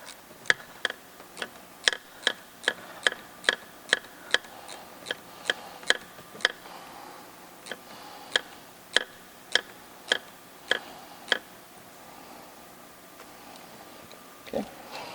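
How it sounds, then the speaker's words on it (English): A 1/4 inch socket ratchet clicks in quick, evenly spaced bursts while fitting a turbo kit to a 3.6L Jeep engine, sharp close ticks with short pauses, then trailing off into quiet near the end. "I'm switching over to a 1/4 inch socket and a ratchet"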